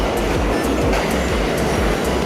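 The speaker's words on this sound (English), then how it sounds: "Every time I go to check when the train's coming, the train shows up." A subway train pulls into Atlantic Avenue–Barclays Center station in Brooklyn with a loud, steady rumble and rhythmic wheel clacks over rail joints, close by, with no talk.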